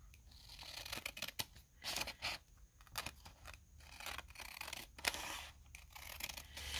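Scissors cut through junk mail envelope paper in short, crisp snips and scratchy rustles, arriving in uneven bursts with quiet gaps between them, close and fairly soft.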